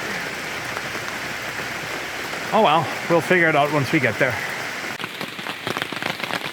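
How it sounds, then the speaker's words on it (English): Rain dripping off a tent rain fly at a wild-weather campsite on Vancouver Island, a steady close patter throughout with a person talking over the middle stretch. "The rain fly off the tent is dripping right on it."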